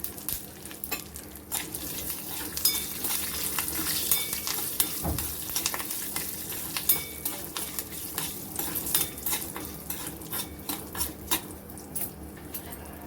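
Tadka of peanuts, red chili and curry leaves sizzling steadily in a hot pan, a continuous crackling fry with occasional spoon scrapes and stirs, close and moderately loud with no talking.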